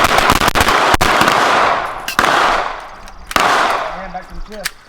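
Rifle shots ring out in quick succession on a combat shooting range, several sharp, loud cracks with ringing echoes.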